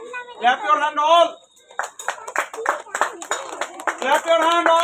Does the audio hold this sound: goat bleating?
no